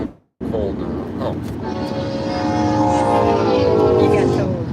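A big freight train rolls past in Texas, heard from inside a moving car with a steady roar of wheels and a long, sustained horn building toward the end, while people talk over it.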